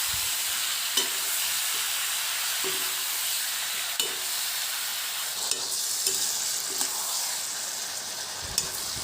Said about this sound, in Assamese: মছলাখিনিৰ লগত আমখিনি ভালদৰে মিক্স কৰি ল'ম